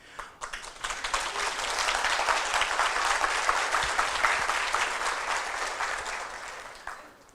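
Audience applause at a spiritual congress rises quickly from scattered claps into a full, sustained ovation, holds loud and close for several seconds, then tapers off at the end.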